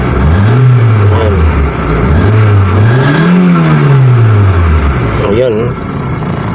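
A Mitsubishi Lancer with an intermittent check-engine fault revs near 1000 RPM, its engine note rising and falling in several smooth swells, loud and close, before settling back to idle.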